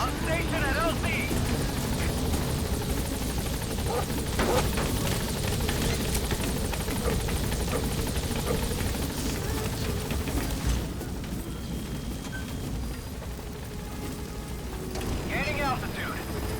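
A Metal Gear Solid V support helicopter arrives at the landing zone, its steady rotor roar and engine drone filling the whole stretch loudly with a short dip partway through.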